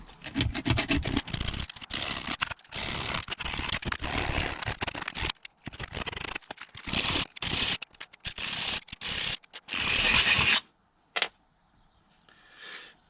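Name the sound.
emery cloth rubbing to clean a cable end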